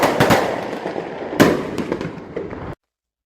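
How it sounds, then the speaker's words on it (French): Foguette fireworks burst in a village ahead of mass, a rapid cluster of sharp cracks and pops with a second heavy bang partway through, loud and close, echoing briefly before cutting off. "La cadence des explosions des foguettes s'accélère au fur et à mesure que l'heure de la messe approche."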